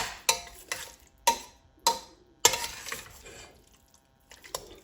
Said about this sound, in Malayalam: എല്ലാം കൂടെ ഒന്ന് കുഴച്ച് ചേർത്ത് യോജിപ്പിച്ചെടുക്കാം